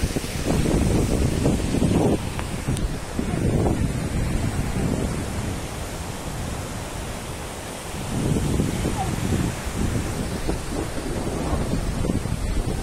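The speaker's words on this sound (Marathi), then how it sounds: "ह्या डॅमवर छोटे छोटे होल आहेत आणि त्याच्यावरून पाणी जाताना दिसते" Water pouring through small openings over the Surya dam in Palghar makes a loud, continuous rushing roar, buffeted by gusts of wind on the microphone.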